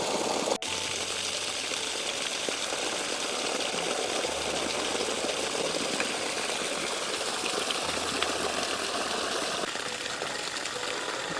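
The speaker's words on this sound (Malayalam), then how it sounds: "നല്ല ഹൈ പെർഫോമൻസിൽ മോട്ടോർ വർക്ക് ചെയ്യുന്നുണ്ട്" A 76V 600W BLDC solar water pump motor runs steadily, its low hum mixed with a continuous gush of discharging water. The sound is moderately faint and even, with no voices.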